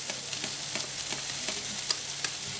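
Finely chopped onion frying in a pan, a steady, even sizzle with soft regular stirring taps, close and alone.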